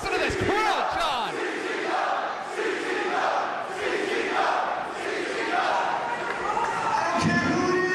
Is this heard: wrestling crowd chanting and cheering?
yes